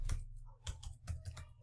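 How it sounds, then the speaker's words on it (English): Someone types on a computer keyboard while entering code in a console window, producing a short cluster of crisp, close keystrokes in an uneven rhythm, soft overall and free of speech. "I can type in the word"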